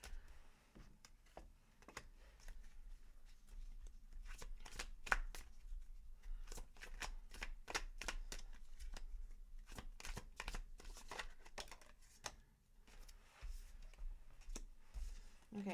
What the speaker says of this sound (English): I'm really sorry if the shuffling's really loud.